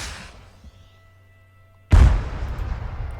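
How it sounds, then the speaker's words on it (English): In the video game ARMA 3, a PCML lock-on missile strikes a truck: a quiet lull and a faint hum, then one sudden heavy explosion that rumbles on with debris noise. "the PCML. This is the locking, more lightweight missile system for NATO"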